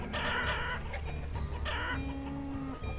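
Chickens cluck repeatedly in a farm pasture in the city-building game Banished, bright close fowl calls with a rooster-like note, over a low soft background.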